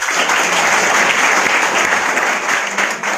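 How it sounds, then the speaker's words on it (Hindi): A church congregation claps together in a dense, loud, sustained burst of applause lasting a few seconds. "मारो तो ढंग का ताली मारो"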